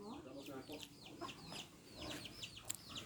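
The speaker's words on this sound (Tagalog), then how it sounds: "Nagulat siguro yung mga manok." Several chickens cluck and squawk in quick, overlapping calls, fairly soft, against a quiet outdoor background.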